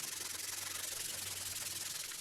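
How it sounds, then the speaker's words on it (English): Steady hand sanding of a handmade marking knife handle, sandpaper worked back and forth in a continuous close, even rubbing hiss with a low hum underneath, no talking. "A little bit of shimmy sanding."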